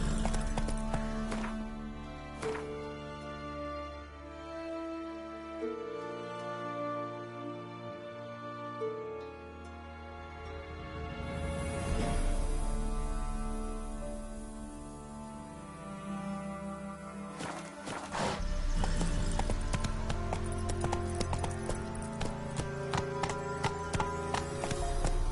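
Roach, a horse in the Witcher 3 video game, gallops with steady hoofbeats clip-clopping over a musical score, with occasional snorts and a rising, busy stretch near the end.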